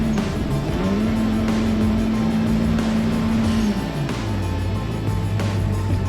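A car drifting on snow in a tandem run, its engine note held high and steady, then sagging as the e-brake comes on, ending in a lower drone with a soft whoosh of tires behind it.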